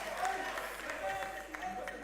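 Brief, soft applause from a crowd at a university gas-industry quiz contest, a continuous spread of clapping with some chatter and voices blended underneath.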